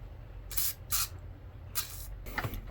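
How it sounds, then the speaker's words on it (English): A can of WD-40 sprays into the starter of a vintage Homelite chainsaw in several short, quiet hissing bursts with pauses between them, close by in a quiet room. "Little WD-40 in there."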